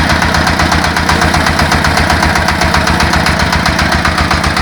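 A small mini tractor engine, built from a Zubr walk-behind tractor, runs loudly and steadily close by, a continuous rhythmic chugging with no pauses.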